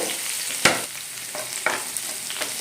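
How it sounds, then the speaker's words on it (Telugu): Green chilies, coriander and curry leaves frying in a pan for a radish paratha, a steady close hiss broken by several sharp spatula scrapes and clicks and no talking. "పచ్చిమిర్చి కొత్తిమీర కరివేపాకు ఇవన్నీ కొద్దిగా ఫ్రై అవ్వాలి"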